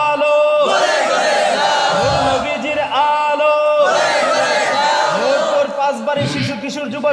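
A large gathering at a Bangladeshi religious sermon chants slogans back in loud unison bursts, several rhythmic group shouts answering a lead caller, each swell ending before the next call.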